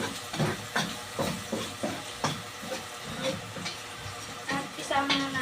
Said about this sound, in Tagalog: Haluin ang pork, bawang sibuyas.